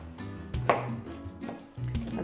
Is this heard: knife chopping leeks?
yes